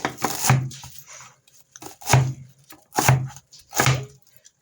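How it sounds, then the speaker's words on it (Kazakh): Knife chopping fresh dill, coriander, parsley and basil on a board, in four heavy, evenly spaced thuds with short pauses between, close and loud, no talk. "Укроп, кинза, петрушка және базиликті үстіп турап фаршымызға қосамыз."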